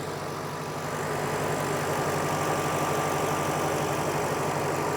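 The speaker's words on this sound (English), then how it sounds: "You can hear it idling very happily and quietly." A 2007 Mustang GT convertible's 4.6 liter V8 idles with the hood open, a steady low rumble with a smooth even hum and quiet belts, close and continuous with no talking.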